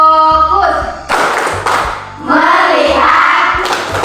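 Schoolchildren in an Islamic religious education class clap a patterned "focus clap" rhythm together, a few sharp group claps scattered among chanting voices and the teacher's speech.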